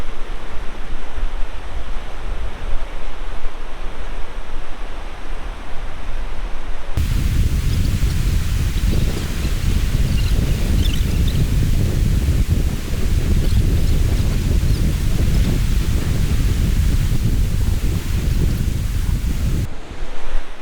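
Sea waves washing onto Bashbaria beach in Sitakunda as the tide comes in, heard as a steady, loud broadband roar of surf mixed with wind buffeting the microphone, with no talking.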